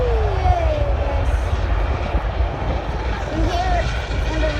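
An airplane departs from Rotterdam airport, its engine roar a steady broadband rumble at moderate distance, with a voice speaking over it.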